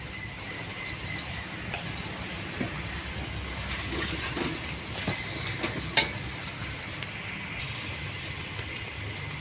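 Tomatoes, ground peanut paste and turmeric frying together in a pan for a vegetarian soybean curry, giving a steady close sizzle with occasional stirring scrapes and small pops, with no talking.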